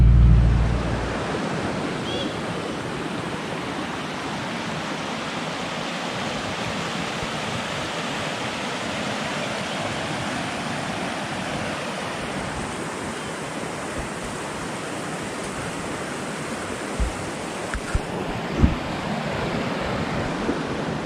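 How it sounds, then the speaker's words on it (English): A small waterfall pours over bedrock in a steady, close, full-bodied rush of water that stays constant throughout, with a few faint knocks near the end. "What a cool little waterfall."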